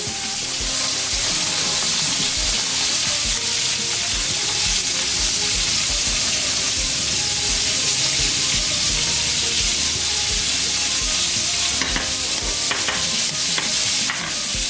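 Fish sizzling steadily in a frying pan as a utensil stirs and scrapes through it, a close, continuous crackle with brief clinks and scraping accents, no voices.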